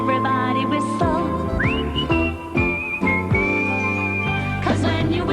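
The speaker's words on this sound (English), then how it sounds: "And when I tell you that he whistles, everybody whistles." Melodic whistling carries the tune of a song on a variety-show stage, sustained whistled notes sliding and holding over a full musical backing, loud and close.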